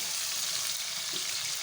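Tomatoes softening in a pan of oil for a quick biryani, giving a steady, close broadband sizzle with a faint watery bubbling underneath and no voices.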